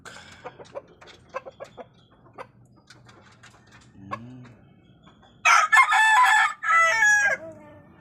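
Chickens cluck and scratch quietly at a distance, then a rooster crows loudly and close by, in two long calls.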